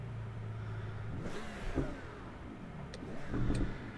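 A Porsche race car engine revs at Monza in the Assetto Corsa EVO racing game, a steady mid-pitched drone that swells and rises twice with throttle, loud and close without talk.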